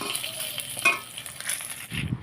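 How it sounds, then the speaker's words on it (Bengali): Fish frying in a pan, a brief close-up sizzle with soft crackles and spatters, no voices. "এই দিকে আমি মাছের ভাজাটা করে নিচ্ছি"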